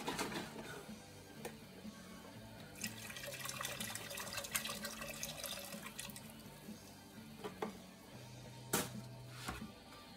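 Beef broth being poured into a pot of smoked brisket beef stew, a steady liquid splashing and trickling with a few sharper clatters of the container, close and alone without talk.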